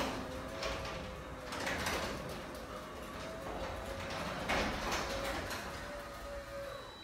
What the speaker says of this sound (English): Siri, close my garage door.